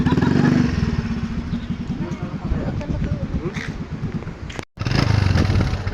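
A motorcycle engine idles and revs nearby with a rough, pulsing rumble, briefly cutting out before roaring on again; voices talk over it.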